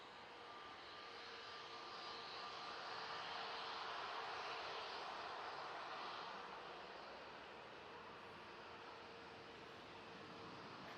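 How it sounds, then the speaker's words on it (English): An EasyJet airliner departing Manchester Airport for Antalya gives a faint, distant, sustained jet roar, a wide hiss that swells gently in the middle and eases off again with no voices. "So that EasyJet is off to Antalya."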